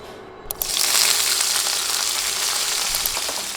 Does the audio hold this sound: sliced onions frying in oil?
yes